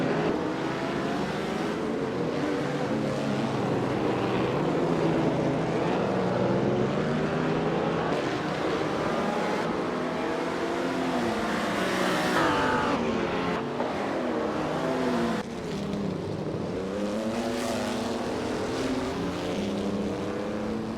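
A 1938 Auto Union race car engine in a racing game, a sustained loud roar with rising and falling pitch through gear changes, continuous throughout without any talking.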